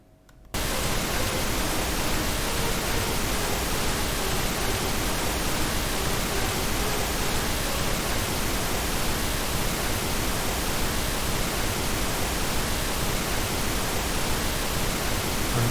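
A steady wash of broadband synth noise, a layer for a trance track built in Bitwig, enters after a brief silence and holds at an even level throughout.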